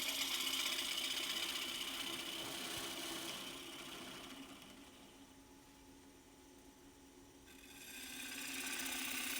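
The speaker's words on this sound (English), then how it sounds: "still slicing, still getting curls coming off of the wood because that tool is sharp" A sharp lathe tool slices curls from a small cherry wood round-bottom calabash bowl, a faint steady scraping hiss over a low motor hum that eases off in the middle and swells again.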